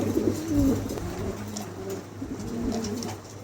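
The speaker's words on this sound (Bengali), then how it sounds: "অনেক সুন্দর কবুতর দেখেন একদম লাড্ডু আছে খুবই চমৎকার কবুতরগুলো" Pigeons in a showroom give close, soft, rolling coos that repeat over a low background hum.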